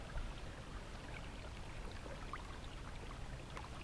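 A Maryland creek near the Gunpowder River flows and trickles over its bed, a soft, continuous watery wash with faint splashes, close by and quiet.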